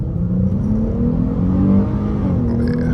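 A Dodge Challenger on 24-inch wheels pulls hard from a complete stop with the throttle floored, a loud close engine roar rising steadily in pitch through first gear.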